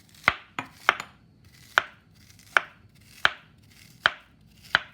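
A knife cutting a banana into pieces on a board: eight crisp, separate chops at an uneven pace, close and clear against a quiet background.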